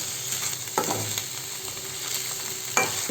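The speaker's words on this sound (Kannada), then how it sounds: "ಮೊಳಕೆ ಬಸಿರುವಂತಹ ಹಸಿರು ಕಾಳನ್ನ ಹಾಕಿ ಅದನ್ನು ಕೂಡ ಫ್ರೈ ಮಾಡ್ಕೊಬೇಕು" Sprouted green gram (mung beans) frying in a pan, a steady close sizzle with a few sharper scrapes of stirring at intervals and no talking.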